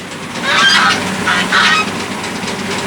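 Geese honking loudly and continuously, several nasal calls overlapping close by with a steady outdoor background.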